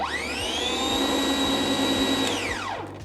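Hyundai HY2196 cordless scarifier motor whirring up to speed with a rising whine, running steadily for about two seconds, then spinning down as it stops; close and fairly loud, with no talking.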